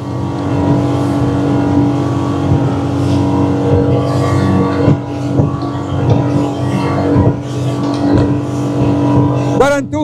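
A Pajara P28 inflatable boat runs at high speed near 40 knots, its outboard engines a loud, constant drone with rushing wind and water slap, pitch shifting slightly as the hull bounces.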